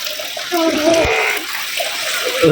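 Floodwater from heavy rain flowing across a farm field, a steady close rush and splash of water with a person talking over it.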